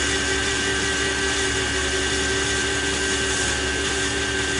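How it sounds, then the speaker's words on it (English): A metal lathe chamfers the edges of a turned metal part, giving a continuous loud machine hum with a steady whine and no pauses or voices. "I'm just going to chamfer"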